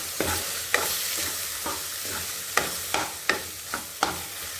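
Pasta tossed with spices is stirred in a hot pan, giving a soft frying hiss under repeated sharp scrapes and taps of the spoon every half second or so.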